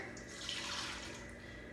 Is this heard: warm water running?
yes